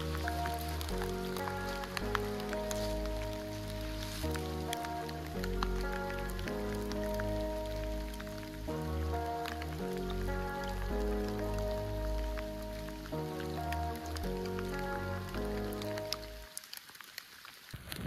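Steady rain patters on the surface of a wood frog breeding pond in western Pennsylvania, a soft, even hiss beneath prominent background music.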